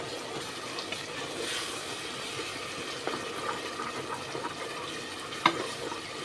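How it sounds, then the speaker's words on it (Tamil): Ginger garlic paste and green chilies sautéed in oil for a mutton biryani, giving a steady close frying hiss with occasional stirring scrapes and a soft clink near the end, with no talk. "இப்போ எண்ணெயில் நல்லா வதக்கி விட்டுக்கலாம்"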